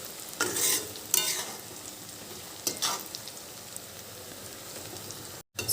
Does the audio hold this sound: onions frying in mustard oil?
yes